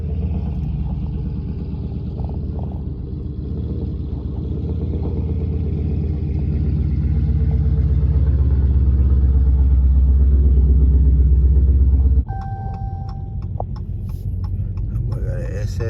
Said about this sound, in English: I got an SS in front of me, that be loud.